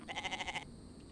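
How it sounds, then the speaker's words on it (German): A sheep in the survival game The Infected gives a single wavering bleat, clear and moderately near, fading into quiet game ambience. "Das ist aber was anderes, ne? Das ist ein Schaf."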